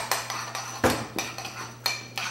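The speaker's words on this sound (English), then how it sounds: "So we're just mixing it up like this." Cashew cheese ingredients are mixed on a plate with a metal utensil, giving a run of close, sharp clinks and scrapes at a steady, brisk rhythm.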